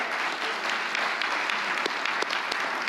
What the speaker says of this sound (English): Did I hear applause?